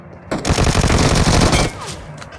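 Rapid automatic gunfire from an enemy bot in a shooter video game, a loud sustained burst lasting over a second and then cutting off abruptly, followed by a fainter trailing shot.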